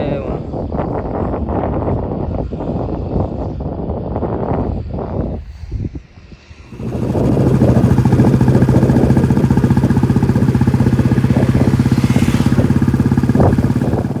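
Farm vehicle engine running in a field during groundnut lifting, a steady close motor drone with a low hum that takes over after earlier wind-buffeted noise, loud and continuous without speech.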